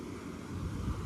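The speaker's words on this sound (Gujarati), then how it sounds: "જો લહેર આવે છે હમણાં" Sea waves wash onto the beach at Dwarka, a steady close roar of surf mixed with wind buffeting the microphone, with no talking.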